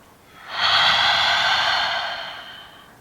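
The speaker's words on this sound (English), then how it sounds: "Again, deep breath in. Open mouth, exhale." A single deep, breathy exhale through an open mouth during a yoga flow class, rising quickly, holding steady for about a second and a half, then fading out, close and clear with no talk over it.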